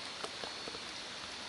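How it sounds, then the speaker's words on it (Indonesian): Light rain patters on a tent at night at a campground in Sukabumi, Java, a faint, even hiss with a few soft isolated drops and no one speaking. "Ini hujan terus, memang sekarang lagi musim hujan sih."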